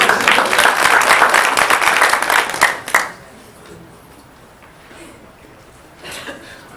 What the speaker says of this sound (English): let's give one more round of applause for our 4 counselors